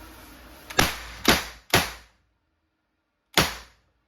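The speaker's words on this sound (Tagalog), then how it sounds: "Yung putok niya malakas po talaga." Three sharp shots from an Umarex T4E TR50 airgun revolver crack out in quick succession, then a pause and a fourth, each a loud snapping pop close by with a brief tail.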